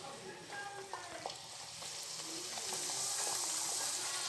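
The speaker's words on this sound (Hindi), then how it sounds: "घी गरम हो चुका है। अब हम इसमें पूरियां डाल देंगे।" Puris frying in hot ghee, a steady bright sizzle that grows slightly louder and denser toward the end, with small crackles and bubbling pops throughout and no talking.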